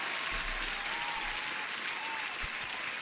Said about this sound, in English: let's welcome the new people with an applause